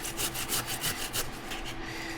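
Jicama being grated by hand, a steady run of rough rasping strokes close up, each scrape repeating in an even back-and-forth rhythm with no voices.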